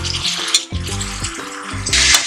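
Tomatoes drop into a pan of sautéed onions and fry with a steady sizzle, broken by the repeated clink and scrape of a spoon stirring against the pan.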